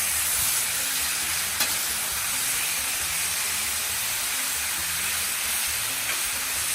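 A can of diced green chilies, juice and all, sizzles loudly and evenly on a grill while being worked around, a dense unbroken hiss with only faint stirring scrapes.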